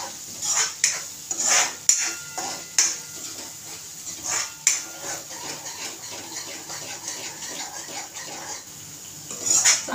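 Masala for misal pav roasts in oil, a faint sizzle under close, repeated clinks and scrapes of a spoon against the pot and other utensil knocks.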